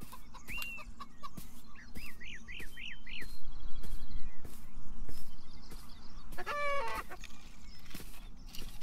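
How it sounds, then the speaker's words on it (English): Chickens clucking and a rooster-like call in an indie video game, short rising cackles and chirpy bursts repeating over a steady ambient music bed at moderate level. "More chickens. Let's go check out the chickens."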